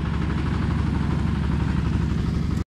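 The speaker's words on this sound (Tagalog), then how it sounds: "Kuliglig. Ang makina niya na Kubota." A kuliglig hand-tractor vehicle converted into a truck, powered by a Kubota engine, runs loud and close in Palanan, Isabela, with a steady chugging low rumble throughout before cutting off abruptly.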